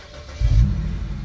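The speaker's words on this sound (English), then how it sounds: "let's test it out again when we start the car." A BMW 3 Series E9X engine cranks and catches, a sudden low rumble rising after a short quiet moment and then settling into a steady idle nearby.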